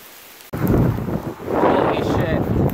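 A stormy outdoor scene on a bridge: after a brief quiet start, heavy wind buffeting and rushing rain roar loudly, dipping once and surging again, with a person talking intermittently.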